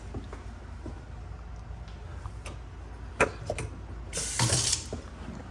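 A kitchen faucet in a Capitol Hill, Washington DC home gives a brief half-second gush of running water in a quiet room, preceded by a few faint clicks.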